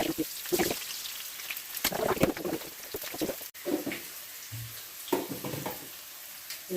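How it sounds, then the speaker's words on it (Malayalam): Mustard seeds crackle and pop in hot oil, a busy sizzling hiss with sharp little bursts and some stirring, fairly quiet. "കടുവറുക്കാനേ"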